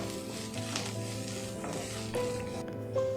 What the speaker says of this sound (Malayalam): ഇനി ഇതിനെ നല്ലതുപോലെ വഴറ്റിയെടുക്കാം